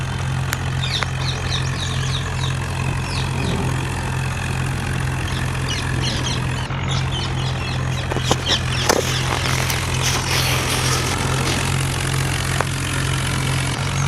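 A video game tractor in second gear hauls three fully loaded trolleys, its engine idling and chugging steadily with a low droning hum, with occasional clicks and rattles over the continuous rumble.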